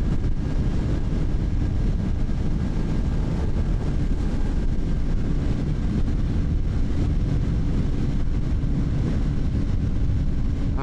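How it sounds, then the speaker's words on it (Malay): Strong wind roars steadily against the microphone while riding a Yamaha Y16ZR motorcycle at cruising speed, a loud, continuous broadband rush with no pauses throughout. "angin kuat."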